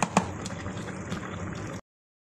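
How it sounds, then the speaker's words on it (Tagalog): Chicken adobo simmers in a pot, giving a soft, steady bubbling of liquid up close with a couple of small pops at the start. "pakuluan lang ng pakuluan hanggat maluto siya"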